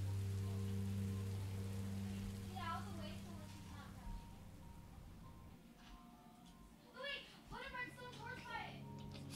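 Rain in the video game Minecraft: Story Mode gives a soft, continuous patter in the background while voices talk over it in short bursts.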